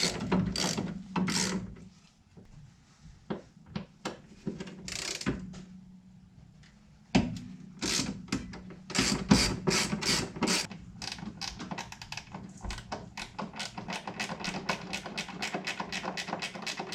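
A ratchet undoing the upper strut tower nuts on a Pontiac Grand Am, close and loud, with short bursts of rapid clicking, a pause, then long sustained runs of quick ratcheting clicks.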